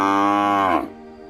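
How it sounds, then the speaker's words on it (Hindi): A buffalo gives one loud, close moo, a long harmonic low that swells and then cuts off after less than a second, followed by quiet. "उस रात जब वो भैंस का दूध निकाल रहा था"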